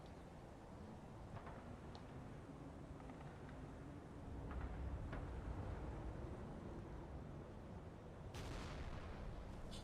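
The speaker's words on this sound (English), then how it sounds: "That little explosion at the end there, I think there was someone trying to bazooka." A faint, distant bazooka explosion in a war video game ends a low rumbling battle ambience, with soft muffled booms and scattered gunfire cracks.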